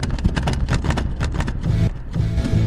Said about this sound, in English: Does your cassette mechanism make a terrible sound like this when you open it?